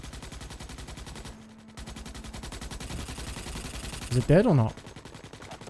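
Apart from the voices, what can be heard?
gunfire in video game Starship Troopers: Extermination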